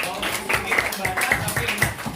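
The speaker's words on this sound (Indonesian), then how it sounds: "Tepuk tangan buat Abian." A sixth-grade class at an Indonesian primary school claps for a classmate, a quick, rhythmic run of hand claps mixed with children's voices talking over it.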